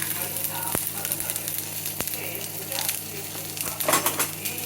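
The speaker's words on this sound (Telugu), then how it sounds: "ఇట్లా చిట్ చిట్ చిట్ అంటున్నప్పుడు మిరపకాయలు, కరివేపాకు, ఇంగువ" Dried chilies, curry leaves and asafoetida crackle and sizzle in hot oil with mustard seeds, a close, steady frying hiss broken by sharp spattering pops and a few stirring clicks, with no talking.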